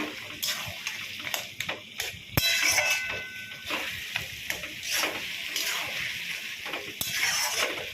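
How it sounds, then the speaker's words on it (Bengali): A spatula stirs boiled potatoes with a little sugar in a pan, making repeated close scraping strokes in an uneven rhythm over a soft simmering sizzle, with no talking. "আলুগুলোর সাথে একটু খুন্তি দিয়ে মিশিয়ে দেব, দিয়ে ভালোভাবে নেড়ে"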